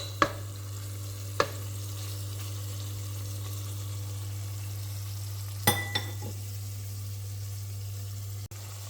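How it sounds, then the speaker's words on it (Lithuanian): Beef frying in a pan with a low, continuous sizzle and steady hum, broken by a few sharp clinks of a utensil against the pan. "Va taip apkepinsime mėsytę mes."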